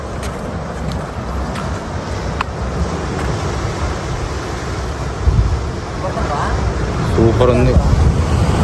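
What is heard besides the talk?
ocean waves at Vizag beach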